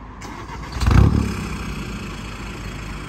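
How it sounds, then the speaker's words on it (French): A car engine cranks and catches, then gives a short loud rev before settling into a steady idle, close by and heard alone without talk. "Tu peux nous la démarrer avant qu'on aille faire le petit tour"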